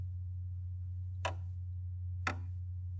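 Two sharp, isolated ticks about a second apart mark a slow, steady musical beat over a constant low hum, quiet and close, with no voices.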